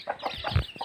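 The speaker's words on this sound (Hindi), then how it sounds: "अरे मुर्गी सब भी लड़ रही है देखिए" Village hens cluck and squabble close by, with a quick run of sharp clucks and squawks and a brief low scuffle.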